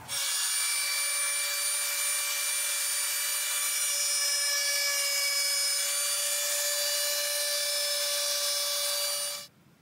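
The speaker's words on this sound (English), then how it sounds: "we're gonna need to cut a box out on the CNC" A CNC machine cuts a wooden box from a sheet, its spindle giving a loud, steady high-pitched whine with constant tones for nearly ten seconds before it abruptly stops.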